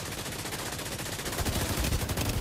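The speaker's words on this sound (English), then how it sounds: "Hostile shot detected." Rapid automatic gunfire from a Division 2 PvP firefight, dense bursts of shots rattling continuously and growing louder toward the end, with no talk.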